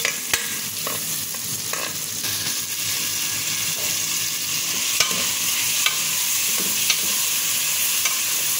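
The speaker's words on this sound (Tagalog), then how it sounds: "Ayan, igisa natin yung bawang, sibuyas, saka luya. At saka yung kamatis." Garlic, onion, ginger and tomato sautéing in a pan, a loud, continuous close sizzle with occasional sharp clacks of a utensil stirring, no one speaking.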